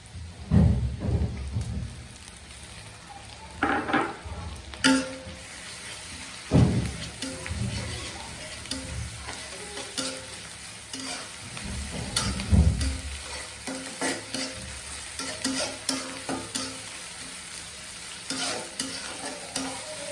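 Onion paste frying in hot oil, stirred with a spoon while making a prawn dish, a steady sizzle broken by several louder scraping stirs spread through the clip, close and fairly loud with no talking.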